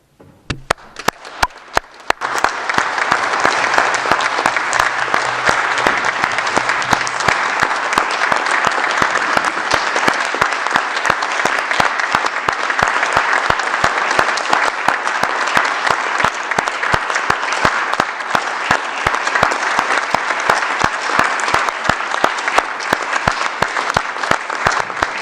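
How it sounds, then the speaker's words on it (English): Loud, sustained applause for health and care workers at a World Health Organization annual assembly during the COVID-19 pandemic, with dense clapping that carries on steadily for over twenty seconds. "Please join me in clapping, shouting, and stamping your feet for every health and care worker"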